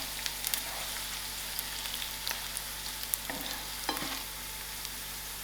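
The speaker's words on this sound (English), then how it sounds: "My onions are almost halfway done, so I'm putting in my biryani mixture in." Onions and a biryani spice mixture fry in a pan with a steady, dense sizzle and occasional crackles and stirring scrapes, close and continuous with no talking.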